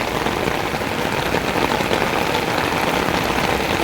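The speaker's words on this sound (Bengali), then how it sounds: "দেখুন কি দারুণ বৃষ্টি হচ্ছে" Heavy monsoon rain pours down outside a home, a dense, steady hiss of drops drumming on surfaces with no pauses.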